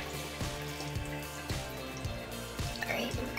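Warm water trickles and drips into a container being filled while making homemade dog perfume, a faint, uneven series of splashy drips and pours that sits close and quiet.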